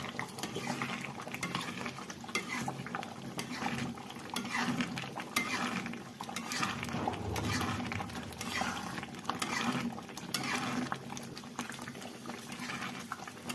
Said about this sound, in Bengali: ডালটা আমি এখন কষাবো